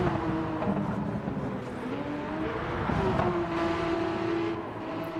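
A Porsche 911 GT3 RS race car in a racing video game, run at the Eiger Nordwand track, drones steadily with its engine note shifting as it slides through corners.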